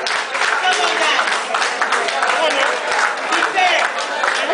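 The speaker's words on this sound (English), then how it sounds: "Give me a round of applause." An audience at a talk gives a sustained round of applause for teachers, dense clapping filling the room steadily without a break.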